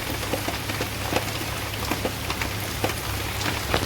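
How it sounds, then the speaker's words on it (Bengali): Steady rain falls outside, a dense close patter of drops striking a surface with occasional louder splats, continuous and with no voices. "বাইরের ওয়েদার দেখুন, এই যে বৃষ্টি পড়ছে"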